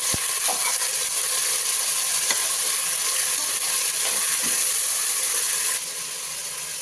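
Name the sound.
minced mutton frying in a pan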